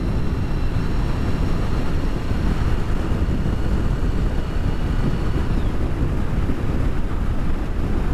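Steady wind roar buffets the microphone on a ride aboard an Indian Chieftain motorcycle, a loud, unbroken rush with a faint engine drone beneath.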